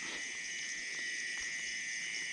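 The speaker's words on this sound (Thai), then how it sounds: "เสียงจีซอนครับ" A mole cricket's continuous high-pitched trill hums steadily without pause, with faint low rustles underneath.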